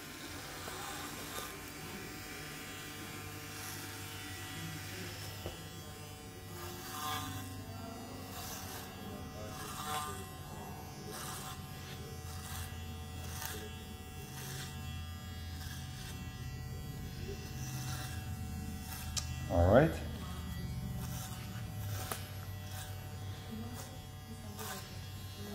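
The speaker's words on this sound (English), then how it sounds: "So now I'm going to actually use a clipper over comb" Electric hair clippers buzz steadily while cutting curly hair at a barber's chair, a close, continuous motor drone with slight shifts in pitch as the blades move through the hair, plus a brief louder snag near the end.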